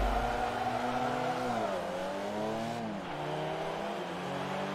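Drag race car in Forza Motorsport 3 accelerating hard, a loud engine whine climbing in pitch through successive gear shifts, each shift dropping the tone before it rises again.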